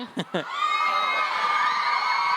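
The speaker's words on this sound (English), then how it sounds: "Thanks for screaming." A crowd of fans at a Hunger Games cast appearance in a shopping mall bursts into loud, high-pitched screaming and cheering that holds steady, after a couple of short shouts at the start.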